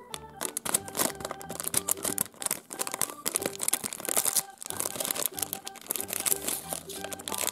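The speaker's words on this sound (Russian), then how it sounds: "Теперь давайте откроем вот такой пакетик с шипучкой." A small packet of fizzy candy from a My Little Pony surprise toy is torn open up close, giving busy crinkling and ripping of thin wrapper over steady background music.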